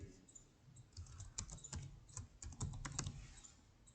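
Soft, irregular keystrokes on a computer keyboard tap out a password, a quick scattered run of quiet clicks with brief pauses.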